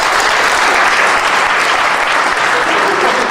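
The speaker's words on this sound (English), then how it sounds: "Thank you to my able helpers. Please give them a round of applause." Sustained applause from a school audience thanking helpers after a science demonstration on aerodynamics, dense steady clapping filling the room without a break.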